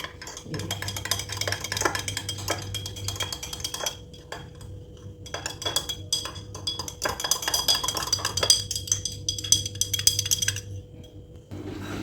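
Hair-growth shampoo ingredients mixed in a container, with repeated clinking and tapping of a utensil against the vessel in uneven bursts separated by short pauses.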